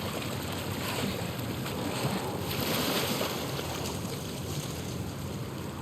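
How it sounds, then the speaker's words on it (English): A fast-flowing torrent of water in The Last of Us, a steady broadband rushing roar that stays constant and dense throughout, with no talk over it. "the player was faced with a fast-flowing torrent of water they couldn't cross"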